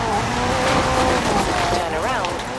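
GTR supercar driving in the video game Forza Horizon 4, a loud revving engine with rising and falling pitch and a brief tire squeal near the end, with a voice speaking over it.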